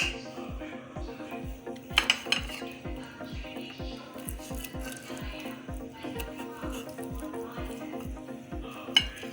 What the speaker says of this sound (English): I'm chopping the chickens into bite-able sizes.